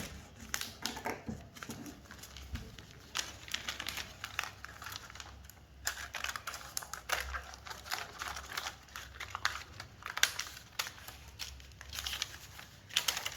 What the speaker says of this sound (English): So I'm going to cut it now.